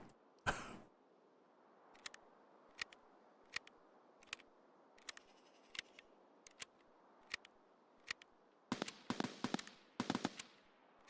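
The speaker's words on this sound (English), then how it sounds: "That's an AK, some sort of 545 AK." An AK-74 rifle in 5.45 fires in Escape from Tarkov SPT, sharp single distant cracks spaced out irregularly against a quiet backdrop, then a tight cluster of rapid shots near the end.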